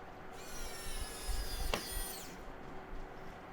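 Xiaomi Mijia electric precision screwdriver driving a screw, a faint thin motor whine rising in pitch for about two seconds before cutting off at the torque stop, with a soft click near the end.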